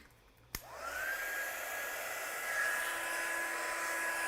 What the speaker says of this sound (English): So let's heat set this one.